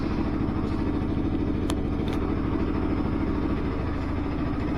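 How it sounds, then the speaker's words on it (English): A Bajaj Pulsar RS400 motorcycle engine running steadily, a loud continuous low rumble heard up close with no talking over it. "Today we're going to take my Pulsar RS400 to work."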